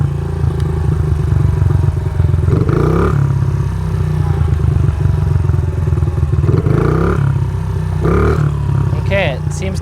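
Dirt bike with a hanging idle and lean fuel mixture on a test ride: a loud, close motorcycle engine runs throughout, with its pitch rising and falling as the throttle is blipped several times.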